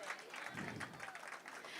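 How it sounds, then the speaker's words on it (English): A temple audience at a Sri Krishna Janmashtami celebration breaks into a short burst of applause, dense clapping from a crowd heard at moderate distance. "big round of applause to them"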